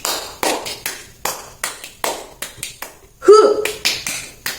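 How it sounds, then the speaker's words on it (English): A class of students claps in a counted rhythm, with sharp, close claps arriving in small spaced groups separated by short pauses, and a brief shouted voice breaking in partway through. "Students, clap 1. Clap 2, please."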